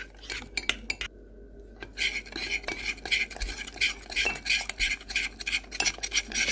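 A utensil stirs a Belgian waffle mixture with baking soda in a pot, with rapid, steady metallic clinks and scraping, close and fairly quiet, continuing without talk.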